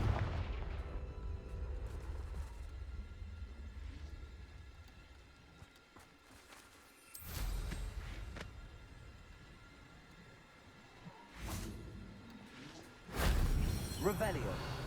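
In Hogwarts Legacy, Confringo fire blast spells go off as sharp booming bursts, about three loud hits spread across the clip over a low game background, with a voice speaking in between.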